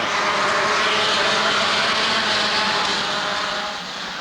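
A field of stock cars roaring away at the green flag at Rockford Speedway, a loud dense engine roar that fades slightly at the end.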